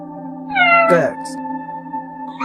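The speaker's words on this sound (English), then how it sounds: "Cats." A domestic cat meows loudly and close by, one drawn-out call followed by a brief second sound, over a steady background hum.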